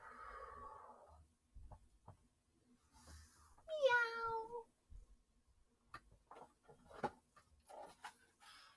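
A single clear, rising-and-falling cat meow sounds in a quiet bedtime-story setting, with faint soft taps and rustles before and after it.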